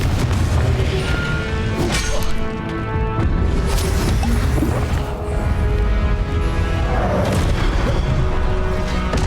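Confringo blasting spells in Hogwarts Legacy on the Switch explode as a series of loud, heavy booms and crashes, one after another in a dense, continuous barrage.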